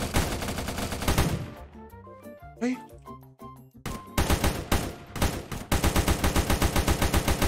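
Rapid bursts of gunfire from military weapons in a Minecraft Bed Wars game crackle loudly in dense volleys, pause briefly, then resume as regular repeated shots.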